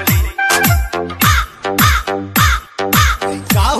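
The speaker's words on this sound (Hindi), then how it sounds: "कौवे का आवाज आ रहा है भाई" A crow caws over and over in loud, harsh calls, roughly seven or eight bursts in quick succession with short gaps between them, close to the listener and with no talk.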